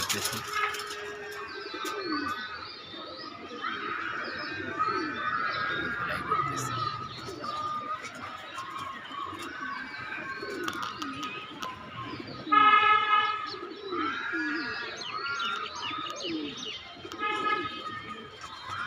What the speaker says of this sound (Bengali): আমি মাদি কবুতরগুলো একটু ফেলাইতে দিলাম